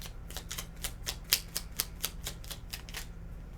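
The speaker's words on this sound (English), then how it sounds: "These cards can be kind of hard to shuffle sometimes." Rapid riffling snaps of tarot cards being shuffled, about a dozen crisp bursts in an uneven rhythm over a low background hum.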